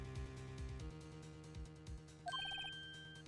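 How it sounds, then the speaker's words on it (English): A phone ringtone in the Phoenix Wright: Ace Attorney video game, a short bright electronic melody of repeated beeping notes that starts partway through, playing over steady game music with low thumps. "I heard a phone ring just now."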